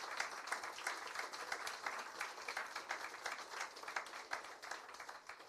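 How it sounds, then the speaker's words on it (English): A crowd applauds steadily at a Jamaica 60 media launch in the UK, a dense patter of many hands clapping at moderate distance, sustained for several seconds without talking. "give our two ministers a very warm round of applause and welcome"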